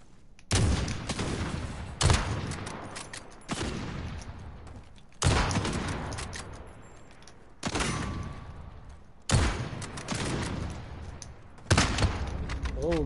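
Repeated heavy gunshots from a shooter video game ring out at irregular intervals of roughly one to two seconds, each loud crack fading into a short echoing tail, with brief voice chatter between shots.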